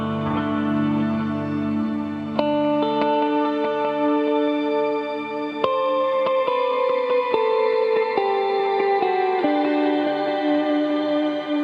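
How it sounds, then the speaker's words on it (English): An electric guitar runs through a shimmer reverb pedal set to a 12-second decay, each plucked note ringing into a long, sustained, pitch-shifted wash that stacks into a continuous glowing drone. "I'm going to put in a shimmer reverb, 12 seconds"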